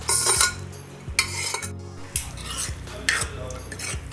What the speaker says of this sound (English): Now we will add this mixture into our masalas